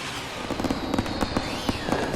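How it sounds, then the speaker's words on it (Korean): Firecrackers go off in a rapid string of sharp, crackling pops, loud and close, with hissing and a whistling streak running through the bursts. "일행들은 폭죽으로 시야를 가린 후 론의 집으로 향하려 하는데"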